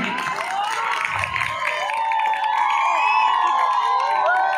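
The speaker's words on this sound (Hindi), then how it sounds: "कालीमाटी पेरिस के लिए जोरदार ताली" At a church youth convention, a crowd claps and cheers with shouts and whoops, including children's voices, loud and lively throughout.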